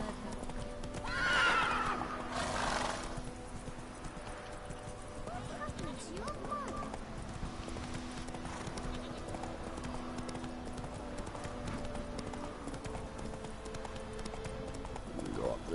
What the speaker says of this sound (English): this horse is hard to control